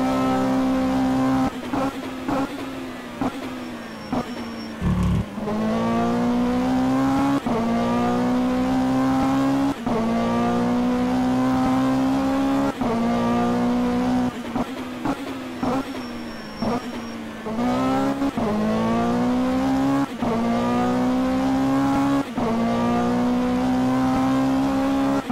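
GT3 race car engines roar around the Bathurst track in sim racing, rising and falling through repeated upshifts and revs, loud and continuous with brief gaps between gear changes.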